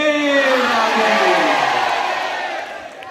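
Crowd at a Delhi film promotion event cheering and whooping loudly, a broad wash of voices that swells and then fades toward the end.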